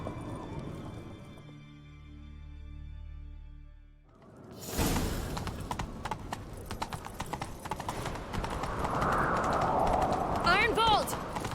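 A horse gallops in The Witcher 3 game, rapid clip-clop hoofbeats pounding steadily after a quiet musical lead-in, with whooshing movement and a brief neigh-like cry near the end.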